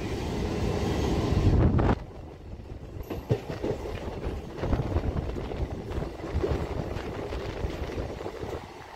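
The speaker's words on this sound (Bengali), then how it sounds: "ট্রেনের আওয়াজটা একটু শুনো গাইজ, কত সুন্দর লাগে ট্রেনের আওয়াজটা রাত্রিবেলার দিকে" Local train running at night past Hooghly Ghat station near Bandel, a loud roar at first that settles into rhythmic clickety-clack and rattling, with wind buffeting the microphone.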